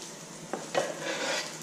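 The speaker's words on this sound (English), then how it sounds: "Here our chicken sizzling." Chicken sizzles in a hot pan with a soft, steady frying hiss, joined by a faint scrape or stir, close and alone without talk.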